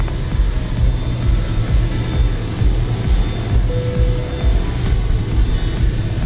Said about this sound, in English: that Batik Airbus A320 is just touched down